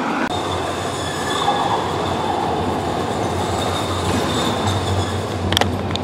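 A tram passing on rails in a city, loud close rumbling with a sustained metallic wheel squeal and rattling over several seconds, a brief sharp clatter near the end.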